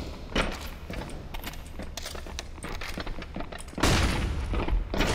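Counter-Strike: Global Offensive gameplay with scattered gunfire and thumps, then a loud grenade blast bursting near the listener and rumbling out.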